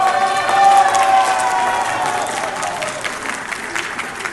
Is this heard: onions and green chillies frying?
no